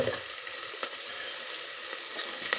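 Chillies sizzling with salt in a hot pan, a steady close crackle of frying with a few sharp pops, continuous and alone with no talk.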